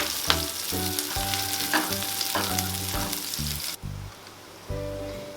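Onions and curry leaves sauté in a pan for okra fry. A loud, steady sizzle runs beneath repeated scraping and stirring strokes, then the sizzle drops away briefly before coming back.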